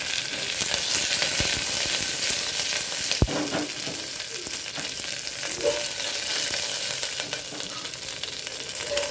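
Steady, dense sizzling of curry leaves and sliced green chili frying in hot oil, continuous and close, with a brief clink partway through.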